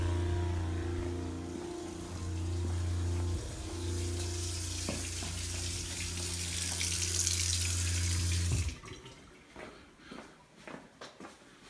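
Hot water runs from a tap into a cabin sink, a steady hissing splash over the low hum of a running propane heater, then stops abruptly, leaving faint clicks and knocks.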